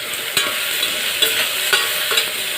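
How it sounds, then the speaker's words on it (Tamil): Potatoes stirred into a frying masala for aloo tahiri, with a steady broadband sizzle and a few sharp scraping knocks of the spoon against the pan, close and alone. "உருளைக்கிழங்கு சேர்த்துட்டு ஒரே ஒரு மிக்ஸ் கொடுத்துக்கிறேன் நான்."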